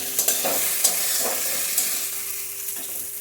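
Pointed gourd curry stir-fried in a pan, a continuous loud sizzle with occasional soft scraping strokes of a spatula, close and steady throughout.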